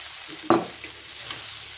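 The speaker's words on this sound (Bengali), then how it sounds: "এটা নাড়তেই থাকতে হবে" Food fried with cardamom powder is stirred in a pan, giving one sharp scrape-and-sizzle burst followed by softer stirring taps over a faint frying hiss, close and without speech.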